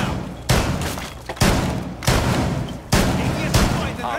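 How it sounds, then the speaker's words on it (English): Gunfire in Rainbow Six Siege on the Chalet map: four loud, sharp bursts of shots at irregular intervals, each followed by ringing decay and rumble. "Shooting."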